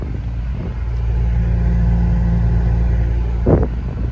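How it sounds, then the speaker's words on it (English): Inside a 2002 GMC Yukon with the engine running, the AC blower motor gives a loud, steady low rumbling drone, with a brief thump near the end. "She says that the blower motor is really loud"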